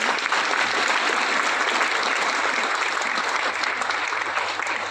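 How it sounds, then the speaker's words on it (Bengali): Audience applause at a Mi Lifestyle direct selling event, dense, steady clapping from a large crowd filling the whole stretch at full, even loudness. "এনাদের জন্য ফাটিয়ে ফাটিয়ে ফাটিয়ে হাততালি"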